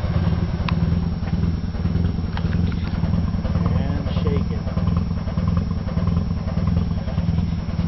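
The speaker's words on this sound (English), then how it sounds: "Old exhaust is shaking like a motherfucker." A 1974 Mazda RX4 with a rotary engine runs at a steady idle with a loose, shaking old exhaust, giving a loud, low rhythmic burble with faint rattles. A voice is heard over it.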